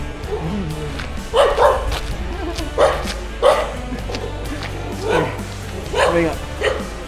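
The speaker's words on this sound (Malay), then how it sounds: "Anjing attack ni." Dogs at a market in Sumatra bark repeatedly in short, close bursts as they go after a traveler, several sharp yelps coming in irregular clusters over steady background noise.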